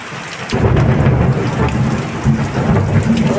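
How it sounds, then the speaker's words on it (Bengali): Thunder rumbles low and loud alongside steady rain falling on surfaces, a continuous storm wash that swells after a brief quieter start, with no talking. "মেঘও ডাকছে খুব।"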